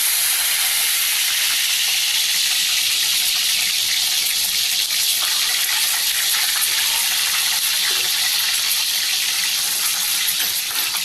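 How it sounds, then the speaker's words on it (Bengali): Eggs fry lightly in a pan for a Bengali chicken keema egg biryani, giving a steady, close sizzling hiss that runs unbroken throughout with no talk. "এবারে ডিমগুলো আমি একটু হালকা করে ফ্রাই করে নেব।"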